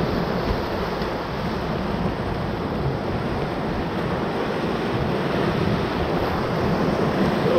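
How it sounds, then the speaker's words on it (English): River water rushing around rocks on the Ocoee River, a loud, continuous churning roar close by, with wind buffeting the microphone throughout. "Most of the water is also being diverted from the tree over to the right side, creating a big pillow in front of this rock"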